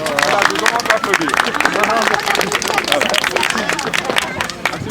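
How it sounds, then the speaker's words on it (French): Outdoor crowd at an urban forest tree-planting event in Ransbeek claps for chief engineer Maximilien Fontaine, steady applause under lively chatter and voices. "je demande d'applaudir"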